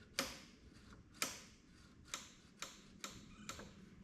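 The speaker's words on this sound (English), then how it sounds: "I'm going to operate just the slide on the throttle here." The throttle slide of an ATC 125M carburetor is moved up and down by hand, giving six sharp, faint clicks spaced about half a second apart, like a ticking mechanism.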